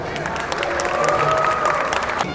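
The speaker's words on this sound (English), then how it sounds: "Round of applause, everyone." A convention crowd gives a round of applause, dense steady clapping with some cheering and voices mixed in, close and fairly loud throughout.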